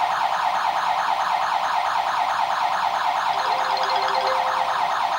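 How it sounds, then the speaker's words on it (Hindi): A home security alarm siren set off at a door sounds loud and near, a steady rapidly warbling electronic wail that continues without a break. "ये अलार्म आ गया और अब कॉल भी आएगा।"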